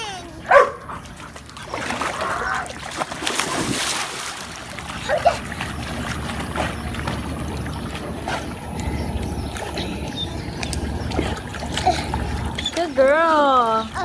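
A dog barking in a water rescue scene, a few sharp barks scattered among splashing and boat noise, with voices and other sounds mixed in.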